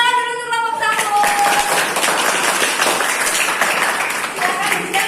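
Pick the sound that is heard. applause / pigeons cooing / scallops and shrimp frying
applause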